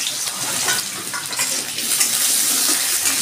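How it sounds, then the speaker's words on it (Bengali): Potatoes fry in hot oil in a kadai, producing a loud, continuous close-up hiss and crackle that sounds almost like running water. "আমি আলুগুলো একটু ভেজে নিচ্ছি"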